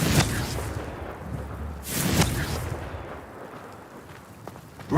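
Confringo fire spell blasts from Hogwarts Legacy, two broad whooshing booms about two seconds apart with a rumbling tail, set over a dense game soundscape with no voices.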